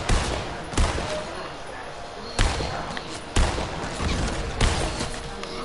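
Gunfire from a boss in a video game: about five sharp, loud shots at irregular intervals, separated by quieter game sound with some faint talk underneath.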